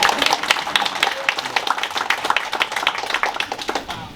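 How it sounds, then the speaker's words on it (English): A small audience at a casual hospitality talk claps in a sparse, uneven patter of individual hand claps, close and distinct, with some talking mixed in. "We can clap that"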